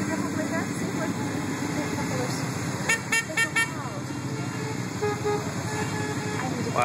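A parade of Can-Am Spyder three-wheeled motorcycles rolls past at SpyderFest 2012 in Cuba, Missouri, with a steady engine drone, a burst of quick horn toots midway, and someone talking throughout.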